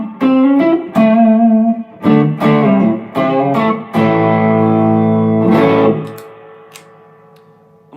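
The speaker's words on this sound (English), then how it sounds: "I was playing the Ryra 808, which is a tube screamer" Electric guitar played through a Ryra 808 tube screamer overdrive pedal, articulate overdriven single notes and short phrases ringing out loud and clear, ending with a sustained chord that fades away.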